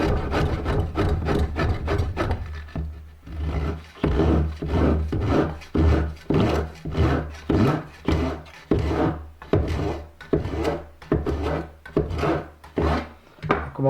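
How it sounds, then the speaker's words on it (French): Overhanging wood veneer on a box is trimmed flush with a rhythmic series of rasping, scraping strokes, close up and steady, with no voices. "on va procéder à l'arasement des plaquages qui dépassent"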